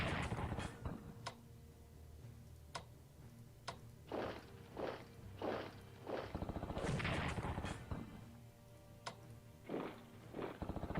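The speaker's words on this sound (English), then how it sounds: "damn you, defensive artillery." Artillery fire in the Strategic Command WWII strategy game, set in the fall of Yugoslavia: a quiet series of repeated short thumps and bursts at irregular intervals, fairly faint, with a few sharper cracks between them.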